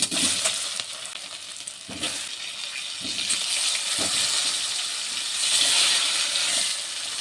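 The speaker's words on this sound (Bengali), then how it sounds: "আলুটিকে একটু ভেজে নেব" Potatoes frying in hot oil tempered with black cumin, a loud close sizzle broken by several scraping stirs and clacks of a spatula, rising in intensity toward the end with no voices present.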